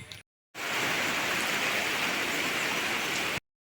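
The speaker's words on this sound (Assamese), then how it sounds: "এটুপ এটুপকৈ বৰষুণ বচমাছ আছে" Rain falls steadily in an Assamese village, a dense, even hiss that starts abruptly and holds for about three seconds before cutting off.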